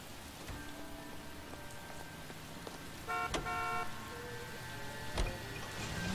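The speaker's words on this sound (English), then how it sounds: "Oh, look, it's raining." Steady rain patters on a surface in the video game L.A. Noire, with a few short tonal horn-like blips and sharp taps scattered through; no talking.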